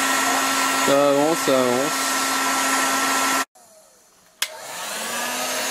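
Heat gun blowing hot air onto a front right wheel bearing part of a 2011 Audi A4 3.0 V6, a steady close-up roar that cuts out briefly and then resumes, with someone speaking briefly over it.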